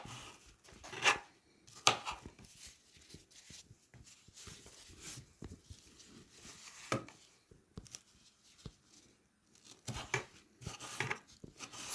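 A red pepper is sliced with a knife for a cold spaghetti chicken salad, making quiet, irregular cuts and crisp taps against the board, some strokes sharper and spaced apart.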